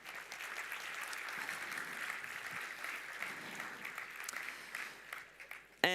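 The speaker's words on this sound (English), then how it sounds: "And please an applause for bronze sponsors." A hall audience at the 2022 ICPC SWERC opening ceremony claps for the bronze sponsors, sustained and moderately loud applause that tapers near the end before a brief sharp noise.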